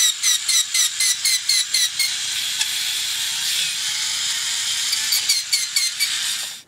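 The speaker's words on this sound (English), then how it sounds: "All the gearing seems to be working fine." Gearing in a Tomy SpotBot toy robot runs on a bench test, giving a rapid, regular ratcheting clicking that stops and starts over a high mechanical whir, close and fairly loud with no talk.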